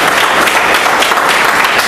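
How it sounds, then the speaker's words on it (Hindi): Audience applause from a large crowd at a motivational seminar, a loud, dense wash of clapping that runs steadily throughout with no talking. "एक बार जोरदार ताली बजा दीजिए दीपाली पात्रा वाला के लिए।"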